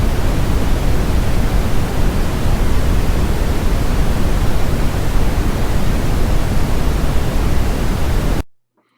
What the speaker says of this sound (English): this is often called brown noise. It's Brownian, I think, is a more proper term